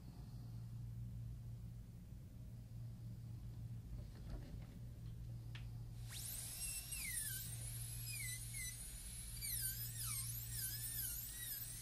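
A dental burr grinds on a ceramic crown during a PFM-to-full-ceramic conversion, a high, whining drill with warbling pitch sweeps in the second half over a low steady hum.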